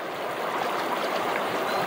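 Stream water rushes steadily through a gold sluice in Fairplay, Colorado, making a loud, constant close-up wash of flowing water with no pauses and no voices.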